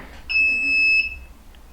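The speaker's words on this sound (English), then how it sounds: "There's the alarm." A car lift's warning alarm sounds as the ramps lower toward the garage floor: one loud, steady high-pitched electronic tone holding for about three-quarters of a second, then a second blast starting right at the end.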